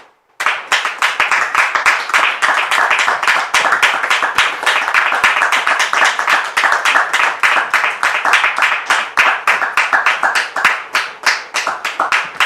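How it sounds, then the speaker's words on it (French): A church audience claps steadily and densely to welcome a pastor, loud and close, sustained without pause throughout. "je vous demande ici maintenant de recevoir le pasteur Donald sous vos applaudissements"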